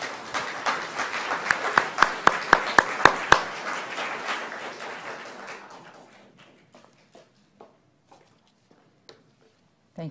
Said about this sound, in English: please join me in giving a warm round of applause to your moderator, Valerie Castleton.